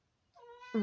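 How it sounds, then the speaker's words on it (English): An indoor cat gives a single rising meow, quiet at first and swelling louder at the end, alone with no voices. "Sorry, that's my cat that just came in."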